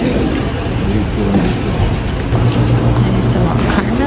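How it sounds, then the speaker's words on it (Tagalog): Steady rain falls on Christmas Day, a dense even hiss close by with a low rumble of traffic underneath and no break across the stretch. "Ang ulan ng Pasko."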